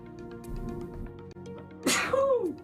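A single loud sneeze rings out near the end of the clip, abrupt and close, rising into a sharp burst after quieter background noise during a live broadcast.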